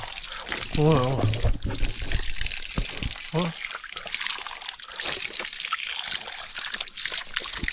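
Pure natural water trickles and splashes steadily from a pipe, a continuous close wash of running water, with a voice briefly heard over it.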